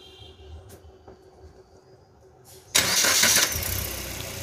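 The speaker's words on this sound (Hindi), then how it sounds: "अब देखिए स्टार्ट करते हैं" A car engine just repaired after a misfire problem cranks and fires up abruptly after a quiet stretch, then settles into a loud, steady idle that runs to the end.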